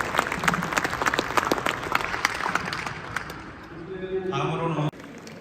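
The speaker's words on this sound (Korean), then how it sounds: "다시 한번 큰 박수로 환영해 주시면 감사하겠습니다." Applause at a defense robotics council founding forum welcomes a minister, a dense round of audience clapping that fades after about four seconds as a voice begins speaking.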